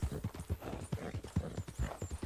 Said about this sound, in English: So we're pushing our horse pretty hard